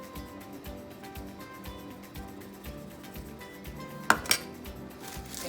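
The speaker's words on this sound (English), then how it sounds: "So mix all of that up and add it to the fish." Seasoning is mixed into fish in a bowl for air-fried tilapia, with faint soft handling sounds and then two quick, clear clinks of a utensil against the dish near the end.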